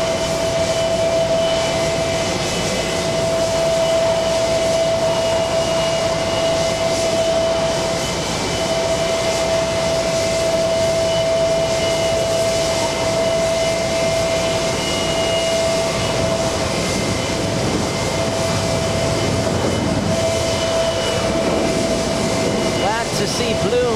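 A JetBlue jet airliner taxis at JFK airport, giving a steady, loud engine roar with a sustained tonal whine that holds throughout, while people talk faintly over it.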